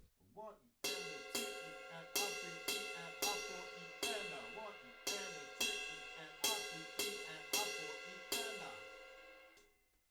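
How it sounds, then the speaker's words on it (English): A bright metallic percussion pattern from a cowbell, agogo bell or glass bottle struck in a steady repeating rhythm for a song, each hit ringing with a sharp attack, close and alone. "it's a cowbell or an a-go-go bell, or maybe even just a glass Coke bottle"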